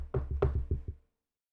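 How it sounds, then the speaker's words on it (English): A quick series of about six solid knocks on a door, close and resonant, in an uneven rhythm lasting about a second before silence. "Sammy knocks on the door."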